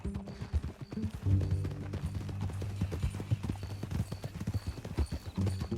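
Horse hooves clip-clopping at a steady walking rhythm in Red Dead Redemption 2, close and moderately loud, with faint speech and a brief whinny-like sound.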